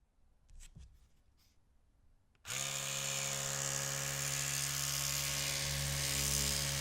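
An electric toothbrush starts up after a few quiet clicks and handling sounds, then runs with a loud, steady, high-pitched buzz held close up until the end.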